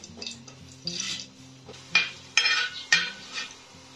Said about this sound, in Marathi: आणि हे सगळं आता तळून घ्यायचं आहे.